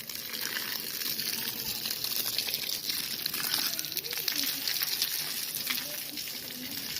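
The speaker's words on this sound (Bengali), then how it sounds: "এই যে সবগুলো গাছে পানি দিয়ে দিব।" Water from a hose or can splashes across rooftop garden plants in a steady, hissing gush that stays close and fairly even throughout.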